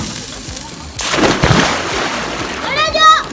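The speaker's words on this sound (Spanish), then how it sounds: "Al agua, Pato, literalmente." A loud splash of someone plunging into a pool, followed by churning and sloshing, with a voice squealing faintly near the end.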